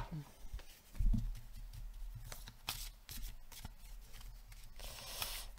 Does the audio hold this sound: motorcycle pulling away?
no